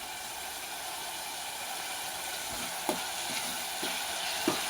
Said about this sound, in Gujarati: હવે થોડુંક આપણે હલાવી નાખશું, મિક્સ કરી લેવું બે વસ્તુને।